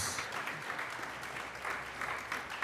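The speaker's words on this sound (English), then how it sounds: "Please keep the applause going for today's ensemble, Phoebe, Fran, Will, and Alex." A small audience keeps clapping for a performing ensemble at a live afternoon show. The applause is faint and continuous, heard from a distance throughout the short stretch.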